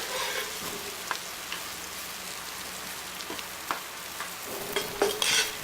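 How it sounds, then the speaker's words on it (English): Fried rice seasoned with tamari is stirred in a pan, giving a steady soft sizzle with scraping strokes and brief clinks at irregular intervals, close and without speech. "Just gonna stir that all up."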